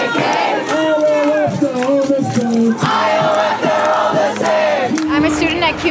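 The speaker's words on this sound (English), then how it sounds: "The crowd is chanting NYPD, KKK, IOF, they're all the same." A protest crowd of many voices chants in rhythmic unison, loud and dense throughout, with raised shouts rising over the mass of voices.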